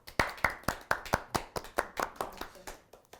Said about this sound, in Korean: 일단 고생한 우리를 위해서 박수 한번 치고 시작하시죠